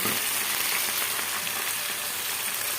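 Ripe tomatoes frying with okra in a pan for a traditional Telugu-style okra gojju, a steady continuous sizzle close up with no talking.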